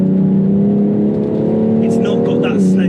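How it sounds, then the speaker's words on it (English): A 2019 BMW X3 M performance SUV engine accelerates on the road, a steady loud drone rising slightly in pitch with a brief gearshift dip near the end, while someone talks over it throughout. "we can interrogate for the first time what this engine really does for the car"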